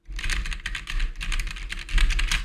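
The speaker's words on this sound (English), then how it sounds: "I got my mechanical keyboard right in front of me." Close, steady typing on a mechanical keyboard about 12 inches from a TONOR ORCA001 USB microphone, a rapid run of clacky keystrokes with a couple of brief pauses.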